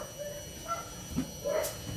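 A neighbour's dog yips and barks a few times, muffled and distant behind a closed door, the short calls scattered over a low steady hum.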